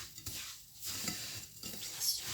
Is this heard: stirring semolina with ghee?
yes